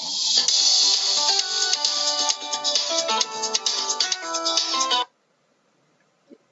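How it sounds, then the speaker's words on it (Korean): A smartphone plays its find-my-device alert: a loud, steady ringtone-like melody with layered tones runs for about five seconds, then cuts off into near silence. "소리 재생 중이라고 되어 있고, 제 휴대전화에서 이런 소리가 나오는 것이죠"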